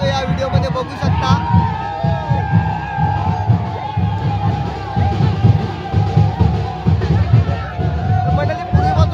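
A dense crowd cheers and shouts as the Kalkai Aai palanquin arrives at a village festival in Parshuram, loud continuous roaring voices with whoops and a steady rhythmic pulse beneath.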